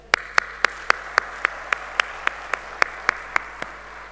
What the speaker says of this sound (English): A big round of applause for this entire team.